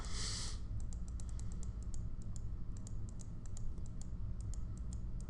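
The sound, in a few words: computer mouse clicking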